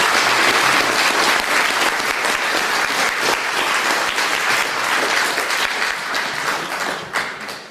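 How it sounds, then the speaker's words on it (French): A theatre audience at a charity performance for the Téléthon breaks into sustained applause, dense and loud clapping that runs throughout before thinning slightly toward the end. "Je vous demande d'applaudir ces personnes."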